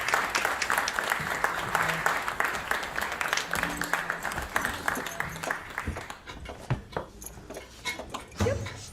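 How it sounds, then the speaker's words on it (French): A small audience claps at a stage magic act, with uneven bursts of handclaps that thin out toward the end and a voice speaking briefly over them. "Merci d'applaudir bien fort"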